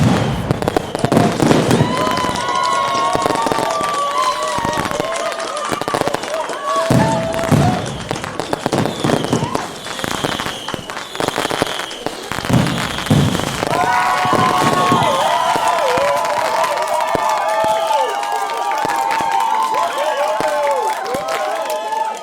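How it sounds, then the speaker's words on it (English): A bonfire night fireworks display: repeated bangs, thumps and crackling bursts mix with a large crowd cheering and clapping throughout. "Well, that's how to enjoy fireworks safely."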